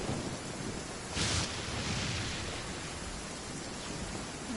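Thunder rolls over steady rainfall in the video game Genshin Impact, with a brighter crack about a second in, then the rumble fading back into the broadband hiss of rain.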